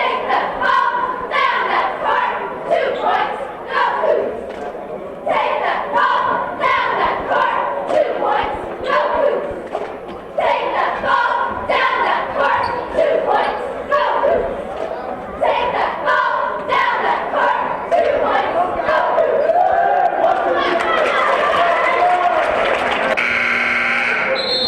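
A school cheer erupts during a full timeout at a boys' basketball game, with rhythmic chanting voices and thumping stomps or claps in a loud, echoing gym for about twenty-five seconds.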